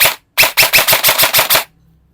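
A Poseidon airsoft rifle test-fires one loud, close full-auto burst of about eight rapid, evenly spaced shots, followed by quiet.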